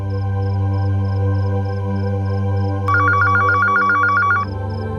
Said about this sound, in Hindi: लोकल कॉल की रिंग एसटीडी कॉल की रिंग से अलग होती है मम्मा।